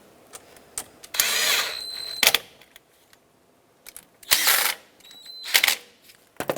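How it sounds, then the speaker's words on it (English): Hose clamps on the air filter housing of a Ford F-450 Super Duty being tightened, with bursts of ratcheting clicks and mechanical whirring alternating with quiet gaps, several separate spells of tightening close to the mic. "now we'll snug both clamps back up"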